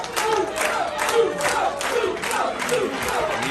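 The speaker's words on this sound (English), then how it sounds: "You hear the crowd solidly behind the Zukkos." A wrestling crowd at a street fight match cheers and chants steadily for the Zukkos, a loud, dense roar of many voices that swells in rhythmic waves throughout.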